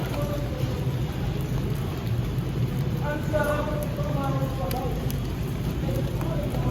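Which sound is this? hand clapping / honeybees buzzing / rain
rain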